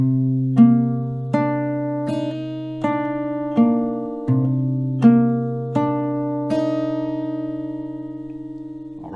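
Acoustic guitar slowly picking a song: about ten separate plucked notes and chord tones, evenly spaced and ringing over sustained low bass strings, close and clear with no voice.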